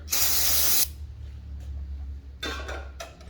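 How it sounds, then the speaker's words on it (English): A loud burst of aerosol brake cleaner hisses for almost a second during a car brake job, followed by quieter handling noises and a second, shorter spray burst. "spray some brake cleaner"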